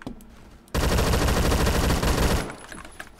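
Sustained automatic fire from a Beowulf ECR rifle in a video game, a loud rapid burst lasting under two seconds before cutting off, with quieter shots before it.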